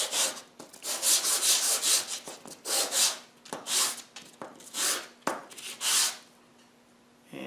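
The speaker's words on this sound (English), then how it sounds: "I'm just going to sand these flat surfaces to get rid of the fuzziness" Flat faces of small wooden wedges are sanded by hand with 220 grit sandpaper, giving close, rhythmic rasping strokes in quick bursts with short pauses between them.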